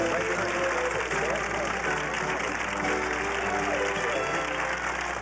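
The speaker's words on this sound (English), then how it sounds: "Nice round of applause," A studio audience at a 1983 television talk show applauds as guest Geraldine is welcomed, steady clapping under a constant low hum, with a voice speaking over it.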